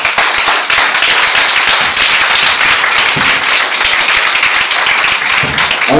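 A church congregation claps and applauds loudly and steadily during a worship service, a dense continuous wash of many hands that fills the space with no break.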